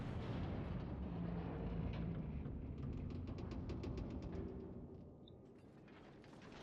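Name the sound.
warship firing all its guns at once in World of Warships video game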